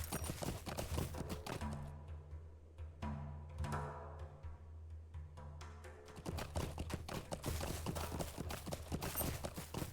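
Warhorse hooves clip-clop steadily in the game Lord of the Rings Online, a rhythmic run of close, loud hoofbeats that slows briefly in the middle before picking back up, with no talking.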